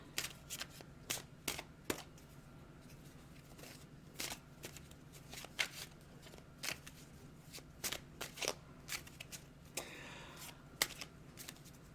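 Playing cards are shuffled over and over for a card reading, giving soft riffling, papery flutters and light snaps in irregular bursts, close and alone with no talking.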